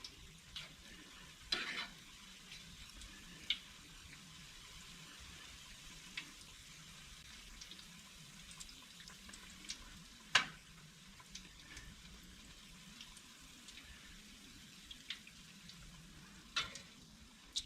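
Fish deep-frying in a pot on a wood cook stove, a quiet steady sizzle with a few sharp clinks and pops scattered through.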